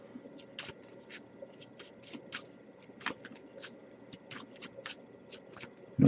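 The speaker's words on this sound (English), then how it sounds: "I'll give it a few more shuffles" A deck of tarot cards is shuffled close by in quick, repeated bursts of crisp riffling clicks and flaps, alone and fairly quiet.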